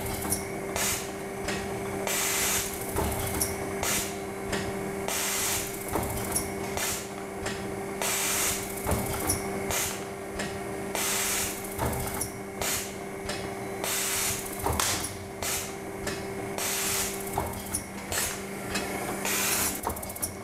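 A Bagel Systems Digifav B2 laminator runs film continuously, giving a steady mechanical hum with a fixed tone and regular rhythmic clicks and hissing pulses repeating throughout, close and without speech.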